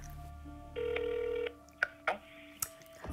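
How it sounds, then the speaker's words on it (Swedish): Ringback tone of an outgoing phone call to a number in another country: a single steady electronic tone lasting under a second, followed by a few brief clicks and faint line noise, with no talking. "Åh gud, nu ringer det."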